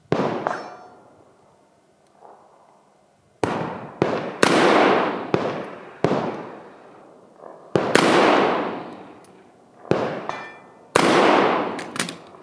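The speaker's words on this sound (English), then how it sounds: "Now he will put it back and shoot again. There will be a total of 4 series of shots." Rifle fired in a series of shots at a range while testing a red dot sight, each report a loud, close blast with a long echoing tail, about eight shots at uneven intervals and no talk.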